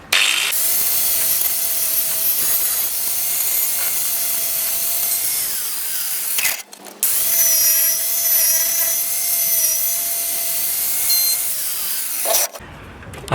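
An angle grinder cuts into rusty metal on a Triumph Dolomite car, producing a loud, close, sustained high-pitched whine that continues with a brief break midway and a short dip near the end.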